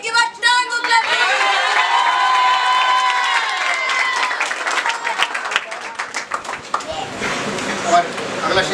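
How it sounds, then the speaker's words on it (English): An audience at a felicitation celebration claps in a sustained burst of applause, dense and loud at first, then thinning into scattered claps mixed with crowd noise. "Again give a turn of clapping."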